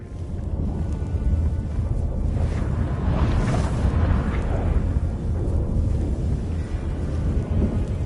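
A thunderstorm rolls over in Witcher 3: a loud, continuous deep rumble of thunder swells and fades over several seconds, with hissing, rain-like noise throughout and no talking.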